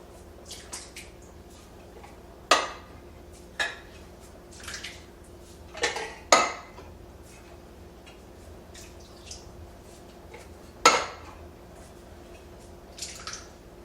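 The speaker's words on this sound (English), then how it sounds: "let's start adding the tomatoes now. This is just more of the diced tomatoes" Diced tomatoes are spooned into a large pot of chili, giving several soft wet plops and squishes with faint metallic clinks, separated by quiet pauses.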